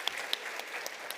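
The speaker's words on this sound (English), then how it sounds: "Another round of applause, I think" An audience at a startup showcase applauds, steady scattered clapping with a few sharper individual claps standing out.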